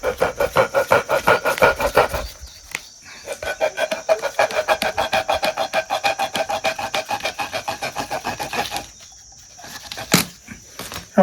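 A hand saw cuts a 2-inch pipe with rapid rhythmic back-and-forth rasping strokes, close and steady, pausing briefly a couple of times before the final strokes.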